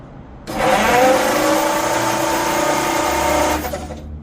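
A 1951 Ford F1 truck engine with its spark plugs removed cranks over on the starter, a steady whirring drone lasting about three seconds, fairly loud and close, starting and stopping abruptly with no talking.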